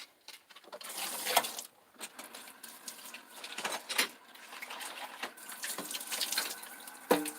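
Water drains out of a kitchen sink in a home kitchen, a soft, close gurgling and trickling with irregular splashy surges, fairly quiet and heard alone.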